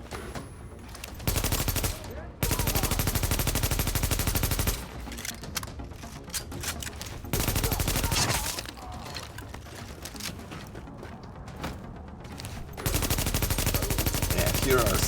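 Automatic weapons fire in The Division video game, dense sustained bursts of rapid gunshots with brief pauses between volleys, loud and close throughout.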